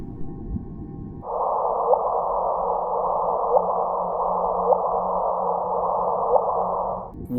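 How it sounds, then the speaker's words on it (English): A sonified signal of two supermassive black holes colliding rings out as a loud, steady synthetic tone that holds for about six seconds with faint periodic pulses, then cuts off abruptly, heard alone. "What you just heard are two supermassive black holes colliding with each other"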